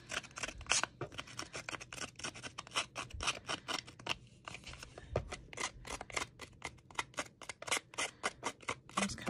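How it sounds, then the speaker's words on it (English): Quick repeated snips of scissors distressing the edges of craft paper, a steady close rhythm of sharp cuts and scrapes with no talking. "Since we distressed that one with the scissors, we're gonna have to do it with this one again."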